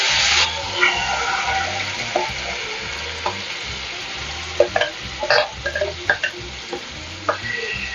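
Sweet filling sizzling and frying in hot ghee at medium heat, a steady close crackle with occasional stirring scrapes and small pops.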